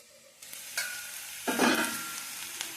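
Hot oil spatters while bitter gourd fries in a pan, with soft stirring clatter and a louder burst of sizzling crackle midway, then occasional pops.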